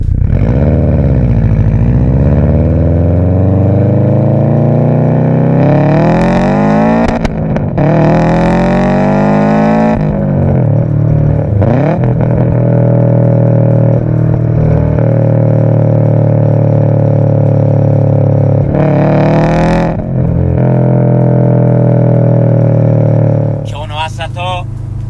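A tuned Subaru STI engine revs hard and loud for about 25 seconds, rising and falling in long sweeps with a deep rumble and sharp climbs to high revs, then cuts off near the end.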